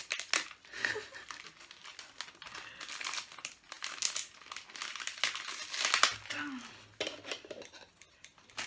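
Yellow wrapping paper crinkles and crumples in repeated quick bursts as a gift is unwrapped, close and fairly soft, with faint background voices.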